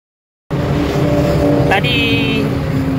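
A lorry engine drones steadily and loudly close by after a sudden start, with a short higher whine partway through and a voice briefly heard over it.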